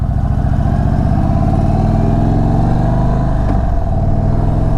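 A 2026 Indian Chief Vintage motorcycle with a Thunderstroke engine rumbles loudly and steadily while riding, a deep continuous throb close to the listener with a slight pitch shift near the end and no talking.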